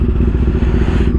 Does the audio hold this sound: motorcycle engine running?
yes